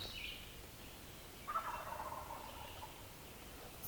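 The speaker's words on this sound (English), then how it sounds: "It sounds like those turkeys are working off around the top of that ridge." Distant wild turkeys gobble faintly, with a brief rattling call rising over quiet outdoor background noise.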